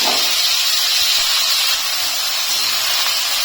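Water lilies hit sizzling oil with fried garlic, a constant, loud hissing crackle that holds steady throughout, with no voices.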